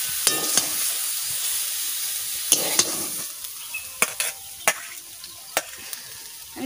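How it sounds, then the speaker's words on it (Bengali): Leafy greens (shak) fry with a soft, steady sizzle in a wok, while occasional sharp spatula scrapes and taps against the metal sound close by. "শাক ভাজা হয়ে গেছে, নামাই নিচ্ছি।"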